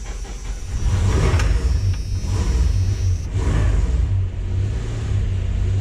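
A Dodge Ram 1500 with a choke problem runs with the gas held down, giving a loud, steady, close engine drone that rises and holds with only slight surges.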